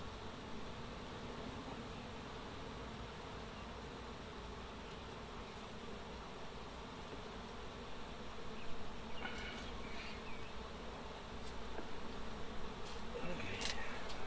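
Honey bees buzz densely around an open beehive frame holding pollen and larvae, a close, continuous hum that swells a little louder in the second half.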